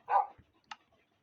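A single short dog bark in Minecraft rings out, followed by a faint thud and a brief sharp click, then quiet.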